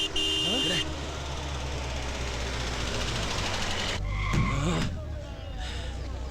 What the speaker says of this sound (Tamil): அண்ணாடி வைத்தியநாதர் வண்டி வருதுண்ணே.